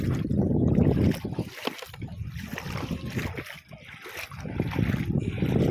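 Steady wind buffeting outdoors by the sea during clam gathering, with low rumbling gusts and faint splashing, rising and falling across the clip.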